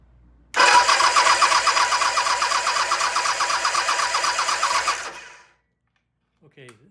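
Norton motorcycle engine turned over by a Colorado Norton Works electric starter against full compression, a steady rhythmic chugging crank for about five seconds, close and loud, then stopping into silence with a faint click.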